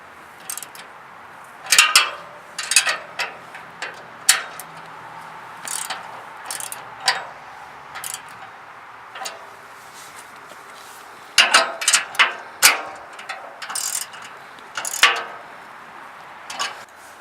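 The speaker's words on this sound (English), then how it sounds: "make sure you have also a wrench right behind it, and make sure you tighten it up all the way" A wrench tightening a 19mm bolt on snow plow skid shoe holders during an install on a 2011 Toyota Tundra, sharp intermittent ratcheting clicks in short bursts, close, with quiet gaps and no talking.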